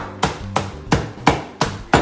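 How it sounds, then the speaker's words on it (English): Hammer blows break up a block of dry ice, six sharp, loud impacts at a steady rhythm, each a crisp crack with a short ringing decay, close by with no talk. "You just want to bang it up with a hammer and your safety gloves."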